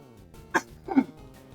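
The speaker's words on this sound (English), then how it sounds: "those coughs are nasty" Two short, muffled coughs close together, quiet and brief over a faint background.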